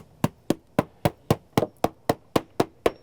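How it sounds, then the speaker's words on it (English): Sharp hammer taps on wood trim by a door, about eleven evenly spaced knocks in steady rhythm, close and clear with nothing else around them. "you can take your hammer, go along, make sure that's solid back there"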